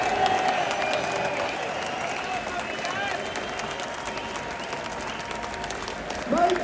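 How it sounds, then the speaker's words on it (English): A large crowd at a London street rally applauds steadily, a broad, continuous wash of clapping heard from within the throng, with scattered voices and a brief louder cheer near the end. "Let's have a round of applause for her mum and dad as well."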